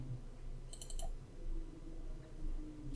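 A computer mouse is double-clicked while working in Adobe Illustrator 2020, two quick faint clicks over a low room hum, followed later by another tiny click.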